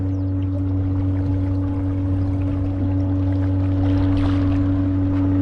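A Bixpy skeg electric motor on a Sea Eagle Explorer 380X inflatable kayak hums at full power, a constant low drone under water rushing and splashing along the moving hull.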